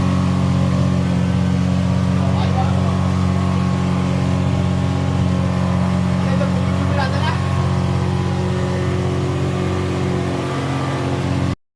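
A boat engine drones loudly and steadily at sea near New Digha beach, a deep, even hum with a strong low rumble that continues throughout, ending abruptly.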